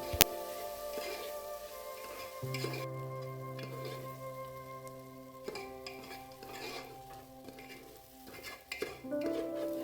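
Quiet metallic scraping and clinking of a utensil stirring rice frying in a pan over medium flame, with irregular taps over a faint steady hum.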